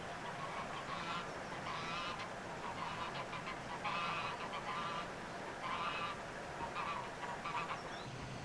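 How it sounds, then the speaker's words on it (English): A pair of geese honk in repeated bursts near a narrowboat by a slipway, their calls recurring every second or two over steady outdoor background noise, moderately close. "There are the two problem geese."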